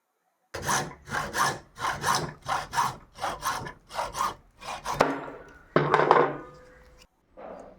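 A round brush's plastic tube being sawn in half by hand: a steady run of rhythmic back-and-forth rasping strokes, close and loud, ending with a few rougher final cuts and a brief knock.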